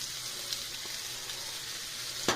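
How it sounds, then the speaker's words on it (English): Onions hit a hot pan on medium-high heat and sizzle softly and steadily, a faint frying hiss with a small clink near the end, no talking. "Make sure your pan is nice and hot. Let it heat up pretty well on medium-high, and just throw those onions in."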